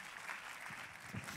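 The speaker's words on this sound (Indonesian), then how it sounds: "Oh tepuk tangannya yang paling meriah buat Yesus" Church congregation applauding during a sermon, a brief, faint wash of clapping with a low murmur underneath.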